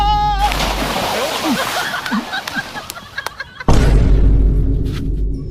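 Two people are pushed into water, giving a splash and slosh among outdoor crowd chatter, followed by a sudden loud, dense rush of water noise that lasts to the end.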